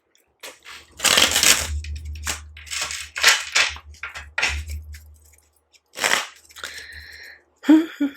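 Tarot cards are shuffled by hand in short, crisp bursts of rustling and flicking, separated by brief pauses, close to the listener with no talking.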